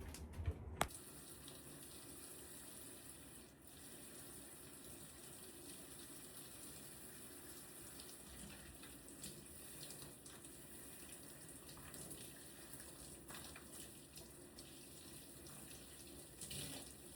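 Water runs steadily from a tap while hair is being shampooed, a faint continuous splashing gush with occasional soft knocks and shifts in the flow, heard alone without talking.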